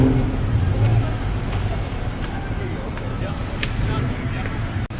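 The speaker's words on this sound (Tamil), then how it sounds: "எல்லா பக்கமும் ஒரே டிராஃபிக்காக இருக்குது." Heavy road traffic near Siam Square in Bangkok, a dense continuous rumble of car engines with occasional revving, steady and fairly loud throughout, with a faint babble of voices underneath.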